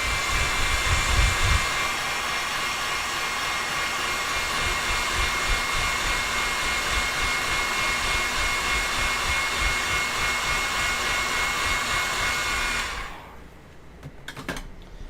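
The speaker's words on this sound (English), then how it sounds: "Take a heat gun" Heat gun on high blowing steadily at a stuck paint can lid, a loud continuous fan roar and hiss that holds for about thirteen seconds before cutting off, followed by a few faint clicks.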